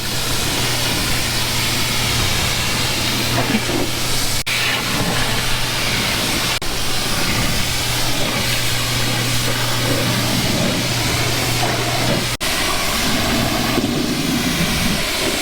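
Steady, loud rush of water spray rinsing the tires of a white Porsche Panamera during detailing, continuous broadband hiss throughout with a low hum, no talk.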